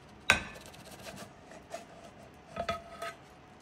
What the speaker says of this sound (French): Je mets l'omelette dans l'assiette.